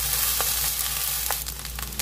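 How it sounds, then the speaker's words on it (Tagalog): Garlic fried rice with soy sauce, margarine and egg sizzles in a pan. The frying hiss is steady and close, with a few brief scraping stirs, and nobody talks. "ito sinangag ko para may makain yung aking mga anak pang breakfast namin"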